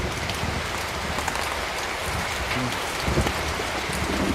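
Steady rain patters on a surface nearby, a dense, even hiss with scattered heavier drops throughout and no voices.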